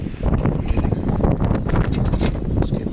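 Strong wind buffets the microphone in a steady roaring rush, with gusty rumbling throughout and no voices.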